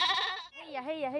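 A mother goat bleats loudly over and over, a wavering, pitch-bending cry as she calls for her missing kid, close by and alone.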